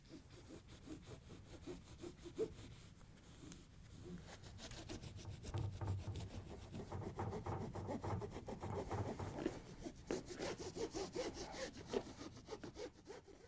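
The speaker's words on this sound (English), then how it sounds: "we want to go around the whole edge and remove all this residue so we get the new tape stuck on there really good" Close, continuous scraping and rubbing clears old foam tape residue from the edge of a GE glass cooktop, with dense rapid strokes that grow fuller and busier partway through and no talking.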